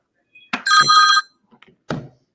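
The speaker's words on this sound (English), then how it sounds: "Sorry, I'm getting all these phone calls." A telephone bell rings in two short, loud bursts in a quiet room, followed by a faint clunk; no one talks over it.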